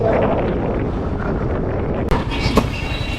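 Strong wind buffets the microphone in a continuous low roar, with a sharp thump and rattling near the end, no one speaking.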